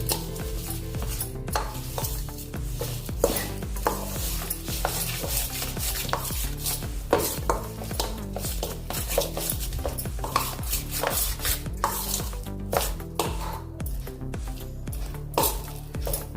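Bedmi Puri dough being mixed and stirred by hand in a bowl, with steady soft scraping, knocks and clinks of the utensil repeating throughout, fairly quiet and close, with no talking.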